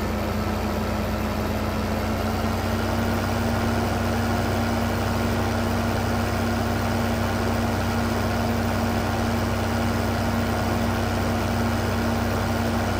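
Articulated tractor engine in Farming Simulator 2015, a steady low idling drone with a constant hum, continuous and fairly loud with no talk over it.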